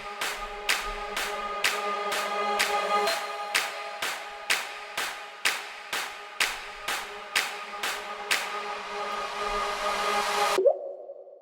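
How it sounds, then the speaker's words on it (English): A clap loop in a future trance track, with evenly spaced sharp claps repeating over a sustained synth pad, about twenty hits ending in a short burst before a quieter tail. "Then there's a clap loop incoming."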